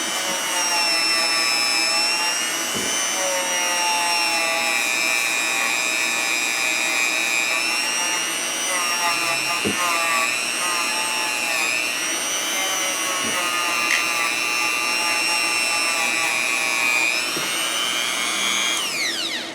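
A Vevor electric chainsaw sharpener gives a steady, high-pitched whine continuously, with a few brief scraping touches of grinding against a metal chain along the way.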